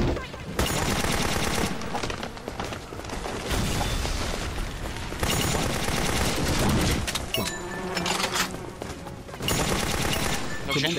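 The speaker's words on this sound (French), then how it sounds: "cette fois-ci, on va utiliser les armes à feu" Gunfire with 9mm rounds in the video game Bokurano Daibouken 3: dense, continuous rattling bursts of shots and booms filling the whole stretch, loud and layered over the game's sound.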